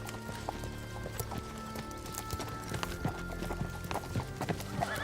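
Horse hooves clip-clop at a steady walking rhythm, fairly close and continuous, with a faint background hum and no talking.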